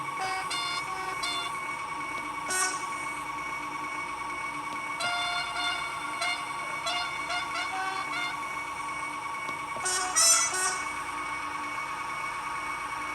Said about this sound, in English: let's listen to a couple more horns here